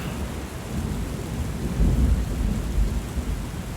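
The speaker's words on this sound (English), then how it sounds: "I love the sound of thunder and rain. Lovely ambience." Steady rain with rolling thunder as ambience in the video game Book of Hours, a continuous wash of rainfall with a deeper rumble swelling near the middle, fairly loud and with no voices.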